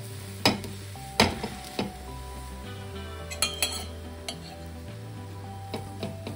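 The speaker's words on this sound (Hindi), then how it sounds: "इस पराठे को हम इस तरह से घी लगा के और पलटे से दबाते हुए सेक लेंगे" A methi paratha cooks in ghee on a hot pan and is pressed down with a metal spatula. Faint sizzling runs under sharp clinks and scrapes that recur at irregular intervals, with no talking.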